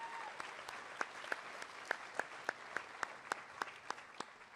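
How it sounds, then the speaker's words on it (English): An audience at a spring agricultural program banquet claps in applause, sharp individual claps standing out in a steady rhythm over a softer crowd patter, heard fairly close and lasting throughout. "Let's give this entire leadership team a great big round of applause"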